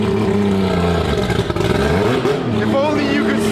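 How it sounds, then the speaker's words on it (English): Triple-rotor turbo drift car engine revving very loudly up close, rough roaring pitch swinging up and down with clattering, with people talking over it. "Triple rotor turbo."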